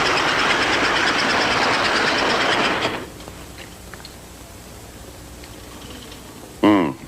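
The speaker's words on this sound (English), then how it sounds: "Even our toy trains like this American Flyer go about that fast." A 1959 Gilbert American Flyer toy train runs with a steady, busy clatter of wheels on track for about three seconds and then stops, leaving near quiet until a brief voice near the end.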